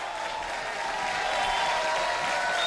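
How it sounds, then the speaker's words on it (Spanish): A crowd at a political event in Arequipa applauds continuously, a dense steady wash of clapping that holds loud throughout without speech. "Un aplauso para Cero Arequipa."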